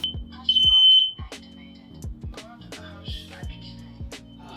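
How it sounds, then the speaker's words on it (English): A shrill smoke detector alarm tone sounds for about half a second near the start, followed by a series of low rhythmic thuds with faint background noise. "your smoke detector also speaks French"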